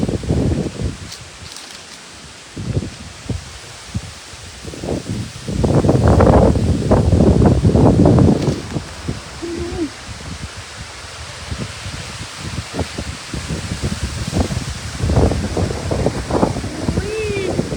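Strong wind rushes through forest leaves near Phaya Nak cave, rising in loud, roaring gusts and then easing into steady rustling. Brief voices come through under the noise.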